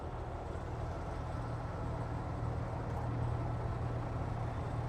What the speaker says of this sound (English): If anyone wonders why it's running right now, we are at the Mid-America Truck Show.